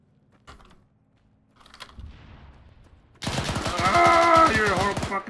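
Rapid gunfire from the Arma 3 military shooter game enters abruptly midway and stays loud and dense to the end, a fast automatic burst pattern after quieter, sparse sounds at the start.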